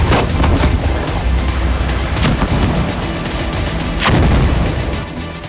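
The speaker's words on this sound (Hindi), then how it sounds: "टैंक तोप से बरस रहे हैं गोले" Tank and artillery shelling in an urban battle, a rapid series of loud booming blasts and sharp cracks overlapping one another, some close and some distant, with no voices.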